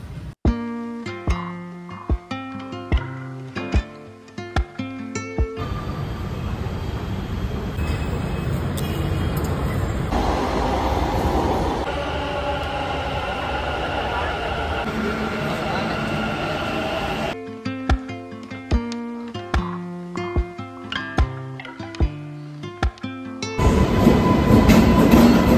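A passenger train runs on rails in Karnataka, its steady rolling rumble filling the middle of the recording, with bursts of rhythmic clicking and clatter before and after.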